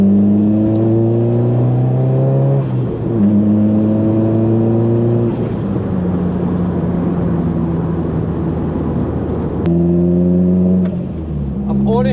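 A Nissan Pulsar GTiR engine revs up through successive gear changes on a dipping country road, with loud, close rising pulls repeatedly broken by brief shift drops, a voice talking over it.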